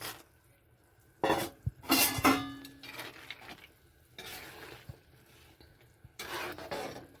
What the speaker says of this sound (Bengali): একটু নেড়ে চেড়ে বড়িটা ঝোলের মধ্যে দিয়ে দিচ্ছি, যাতে ঝোলটা ওর মধ্যে যায়